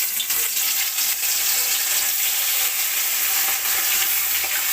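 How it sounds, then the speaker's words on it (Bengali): Fish pieces, salted beforehand, fry in hot oil in a kadai for a Bengali fish curry. The sizzling is steady and crackling throughout and holds close and even, with no talk. "মাছগুলো ভেজে নেব।"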